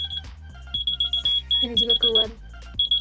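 Novelty keychain gadget bought online giving off a string of high, piercing electronic beeps at close range, with a person talking over parts of it.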